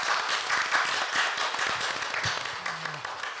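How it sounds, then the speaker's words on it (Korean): Audience at a Korea University public hearing on Anam-dong campus town urban regeneration claps for the presenters, a steady moderate spread of hand claps, with brief low tones near the end. "발제자분에게 여러분 박수로 격려해 주십시오."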